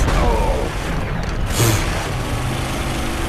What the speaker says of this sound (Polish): Wybuchające kamienie!